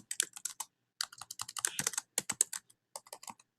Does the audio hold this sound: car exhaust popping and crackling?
no